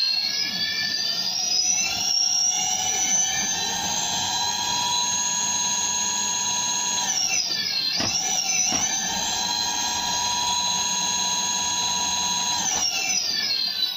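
An electric motor run by a Fardriver ND72260 controller on a 48-volt battery whines at high speed, a steady tonal hum that holds, dips sharply twice, then recovers and settles.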